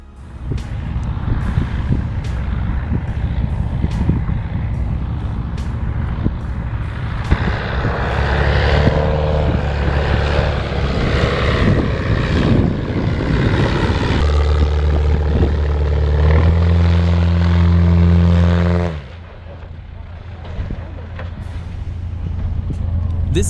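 A seaplane on the water runs its engine and propeller with a loud, steady drone that swells and changes pitch, then drops off sharply near the end. A voice talks over it.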